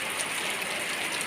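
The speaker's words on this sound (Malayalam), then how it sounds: "ഇപ്പം നല്ല മഴ പെയ്തിട്ടോ. നല്ല മഴ പറഞ്ഞാൽ നല്ല മഴ." Heavy rain pours in a dense, steady hiss with no breaks, close and even throughout, with no voices over it.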